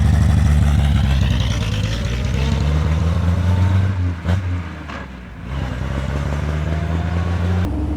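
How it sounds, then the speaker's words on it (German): A 1933 Lagonda M45 prototype car drives during a brake test, its engine droning loudly and close with a rising tone, then dropping sharply around the braking point near 4–5 seconds before picking up again. "Ich mache jetzt erstmal einen Bremsentest, weil auch das ist umgekehrt bei dem Auto."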